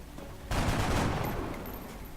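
A soldier's gunfire in XCOM: Enemy Unknown, a sudden loud burst of rapid shots breaking out after a short quiet lead-in and then trailing off into a fading echo.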